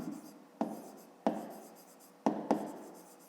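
A pen writes numbers on paper; soft scratching strokes are broken by four sharp taps, each followed by a brief fading scrape, close and quiet with no talk.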